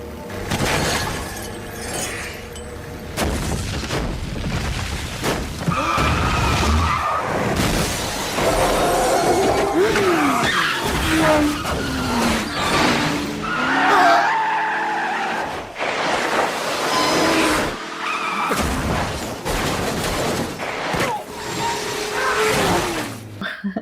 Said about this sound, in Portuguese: Da galera dirigindo no carro e os troncos caindo e matando todo mundo.